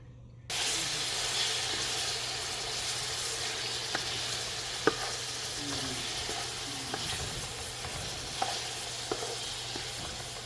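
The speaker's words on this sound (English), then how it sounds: "the tomato and onions that have already been frying here in the pan" Sliced tomatoes and onions fry in oil in a big pot, giving a steady close sizzle that starts abruptly and continues with a few light stirring clicks.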